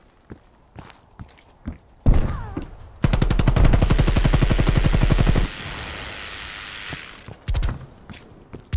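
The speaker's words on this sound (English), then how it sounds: "Death machine deployed." A Death Machine minigun fires in Call of Duty: Black Ops Cold War team deathmatch: a loud, sustained rapid burst of closely spaced shots, preceded by scattered footsteps and thuds and followed by a trailing whir.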